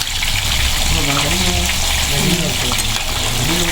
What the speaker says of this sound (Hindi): माशाल्लाह बहुत ज़बरदस्त फ्राई हो रही है और आग भी नीचे बहुत ज़बरदस्त जल रही है।